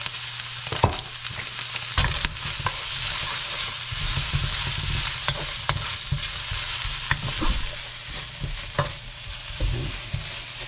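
Bacon, chopped carrots, onions and cabbage stir-fry in a pan, a continuous close sizzle broken by repeated scraping stirs and small pops, fairly loud and with no talking.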